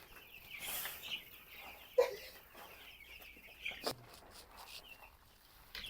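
Broiler chickens cluck inside a chicken house, soft scattered clucks and a few sharper calls over a quiet hum, with some nearby knocks and handling noise.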